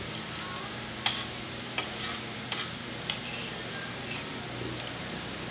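Corned beef and potatoes cooking in a pan, a soft steady sizzle under a series of sharp utensil clicks and scrapes spaced about every second, close and moderately loud, with no talk.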